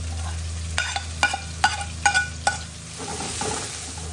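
Garlic and onions sautéing in oil in a pan for pancit guisado, several sharp stirring scrapes at a steady pace over a soft sizzle, close and alone with no talk.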